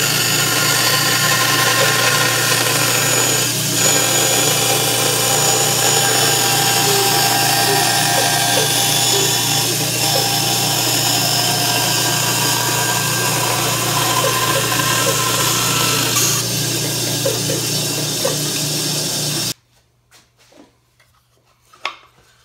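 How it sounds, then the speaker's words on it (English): Bandsaw cutting through a wooden bowl to split it in half, a steady loud buzzing whine with gritty cutting texture for about twenty seconds, then stopping abruptly and leaving a near-silent shop with faint clicks. "I'm going to saw it in half and then show you the next steps."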